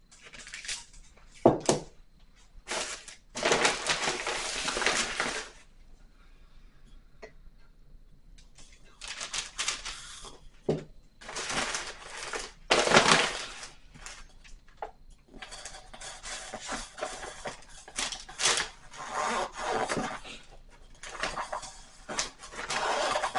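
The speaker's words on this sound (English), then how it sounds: "I'm going to hope that this serrated knife will cut through it" A serrated knife saws through stiff craft foam for a fake hot cocoa mug decoration, giving bursts of rough, scratchy rasping strokes with pauses between them, close and fairly loud.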